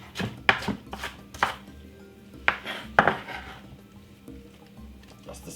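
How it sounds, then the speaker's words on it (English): A knife chopping spring onion on a board for a home chicken recipe: a run of sharp, close cuts in quick bursts, then two spaced strokes and a few quieter taps. "some spring onion, which is I'm cutting up"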